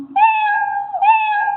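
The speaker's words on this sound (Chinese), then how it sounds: "这个时候喵了2声" The cat meow sound effect from the Scratch coding program plays twice in quick succession, two clear, bright, close meows with nothing else around them.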